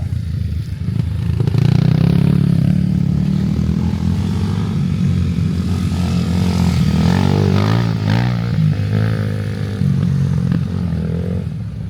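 A Kawasaki KLX230SE enduro motorcycle rides an enduro track, its single-cylinder engine droning loud and close throughout with shifting revs and a rough, clattering edge.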